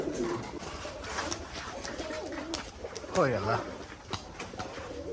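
Domestic pigeons cooing in repeated soft rolling calls close by, mixed with people talking and exclaiming over the birds.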